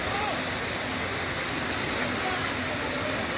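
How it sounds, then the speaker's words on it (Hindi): Water from temple fountains falls from above in a steady, loud, continuous rush of spray and splashing, like a waterfall, filling the whole span without pause. "ये कैसे फुहारे चल रहे हैं, ऊपर से पानी गिर रहा है"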